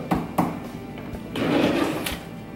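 A drawer in an apartment kitchen is opened with a couple of sharp knocks followed by a brief sliding rumble, heard close with no talk.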